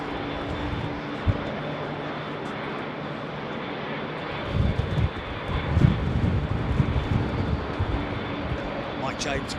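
A fixed-wing airliner at London Heathrow runs its engines in gusty wind, a steady broad roar that swells and grows rougher toward the end as it starts to move, with wind buffeting the microphone and faint voices underneath.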